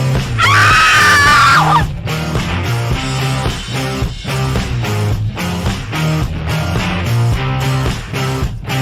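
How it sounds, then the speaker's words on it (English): A loud, high-pitched scream in a hotel room at Hotel Congress, Tucson, Arizona, rings out near the start and holds for about a second, then breaks off while steady music continues underneath. "I was awakened by a loud scream."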